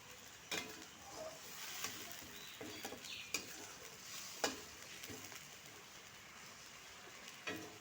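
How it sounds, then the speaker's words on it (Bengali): Soybean and pointed gourd curry with whole spices being sautéed and stirred in a pan, a faint, quiet sizzle broken by occasional sharp spatula scrapes, with no voices. "ভালো করে কষিয়ে দেবো।"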